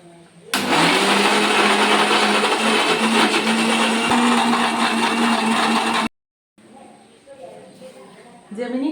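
A kitchen mixer grinder blending ripe jackfruit for cake batter, a loud steady whir that starts abruptly and runs for several seconds, then cuts off, followed by quieter handling sounds.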